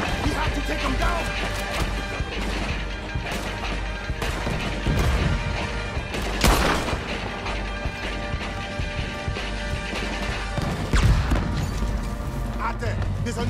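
Gunfire and cannon blasts crash repeatedly through a loud, dense battle in Red Dead Redemption 2, with sharp bursts and a heavy boom around the middle, mixed with shouting voices and game noise.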